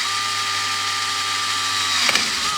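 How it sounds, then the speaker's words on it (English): A power drill whines at a steady pitch, then briefly bites and rattles as it pushes through plastic near the end. "Just drill through that bad boy."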